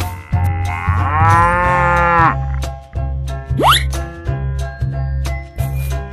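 A single drawn-out cow moo rises and falls at the start, followed by cartoonish sound effects and a bouncy backing track, fairly loud and close.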